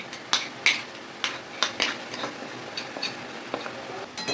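Bottle gourd being stirred in a cooking pan, a utensil scraping and tapping with soft irregular clinks and wet patters at a steady close distance, no talk.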